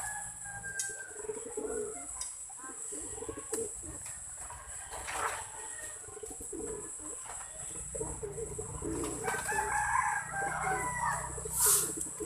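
A flock of pigeons in Tacloban coos softly and steadily in a loft, with a rooster crowing in the background and rustling movement throughout; no one speaks.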